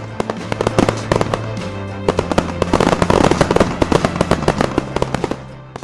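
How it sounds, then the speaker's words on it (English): Cartoon fireworks burst in rapid crackling succession, dense sharp pops and bangs that build in intensity and then taper off, loud and close. "Fireworks for our puzzle heroes."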